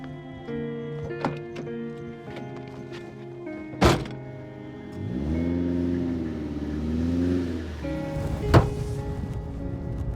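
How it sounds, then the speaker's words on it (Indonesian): A car door thuds shut, then a mid-sized engine starts, revs up and pulls away over several seconds before a second sharp thunk, with no talking. "mobil yang barusan tadi itu pasti mobil membawa Saskia"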